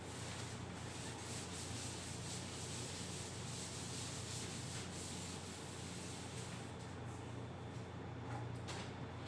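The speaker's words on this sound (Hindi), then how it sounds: "चलिए इसको अब मैं रब कर देता हूं।" Continuous scrubbing of a duster across a classroom whiteboard, a dense, even rubbing that runs steadily for several seconds at close range with no talking.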